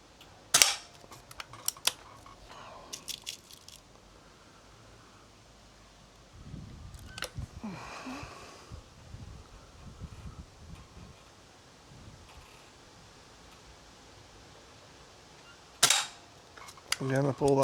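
A spring-powered S400 air rifle fires at a paddle target outdoors. A few sharp, distinct cracks are spread far apart, with faint rustling and wind-like noise between them.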